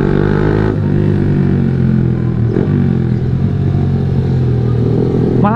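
A loud Yamaha R15 V3 motorcycle exhaust roars and revs nearby, its rough engine note rising and falling continuously.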